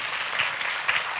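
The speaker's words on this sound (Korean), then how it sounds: "뜨거운 박수로 축복해 주시면" Audience applause for a newlywed couple married the day before, a steady dense clapping that fills the whole moment at close range with no talk over it.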